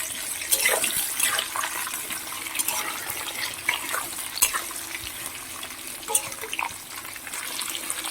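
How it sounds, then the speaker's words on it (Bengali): Potatoes and jackfruit seeds frying together in a pan, a steady close sizzle with scattered scraping and clinking from stirring throughout, no talking. "এবার আমি কাঁঠালের বীজগুলো এর মধ্যে দিয়ে দিলাম এবার একসাথে একটু ভালো করে ভাজা করে নেবো"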